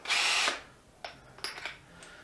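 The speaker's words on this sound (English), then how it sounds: "Right, we'll get the old Dewalt, we'll try that." A Dewalt DCD795 cordless drill whirs in one loud half-second burst, followed by quieter clicks and short mechanical taps of tool handling.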